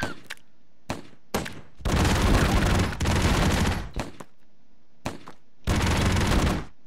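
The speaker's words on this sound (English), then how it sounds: "They're all dazed and shooting each other." Gunfire from the side-scrolling video game Broforce comes in loud bursts: several short sharp shots, then two long sustained volleys of rapid fire separated by brief single shots.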